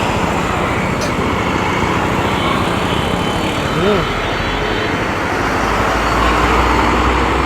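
Road traffic heard while riding a TVS Apache RTR 200 4V BS6 motorcycle: a loud, steady broadband roar of engines and wind, with a brief horn-like tone sounding about midway through.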